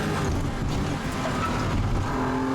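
Porsche race car engine on the Oulton Park circuit during a classic racing championship, a loud continuous engine drone heard from on board as the car brakes into a chicane.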